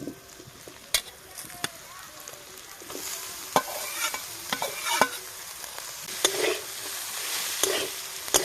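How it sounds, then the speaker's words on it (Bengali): Chopped potato sizzles in a pan with onion fried red, salt and turmeric. A spatula scrapes and clicks repeatedly as it stirs, close and fairly quiet, with no talking. "এবার এই কুচিয়ে রাখা আলুটা এখানে দিয়ে দেবো"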